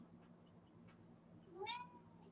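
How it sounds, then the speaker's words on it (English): A single cat meows briefly near the end, a thin rising-and-falling cry over a quiet, humming room. "it's the sound of an annoying cat."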